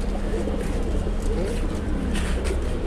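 Pigeons coo steadily inside a loft in Tongi, producing a low, continuous murmur of overlapping calls with faint voices in the background.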